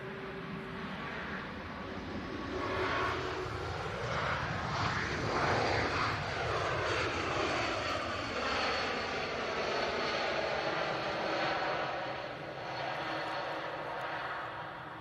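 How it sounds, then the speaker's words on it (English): An Airbus A220 airliner lands at Manchester Airport with a loud, broad engine roar that swells and holds steady while the jet rolls past nearby, the pitch of the engines sweeping as it goes by. "Bit of a firm landing there from the 220."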